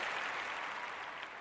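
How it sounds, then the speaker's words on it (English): Brief, fairly faint wash of studio audience clapping, steady and even with no voices on top. "audience is clapping"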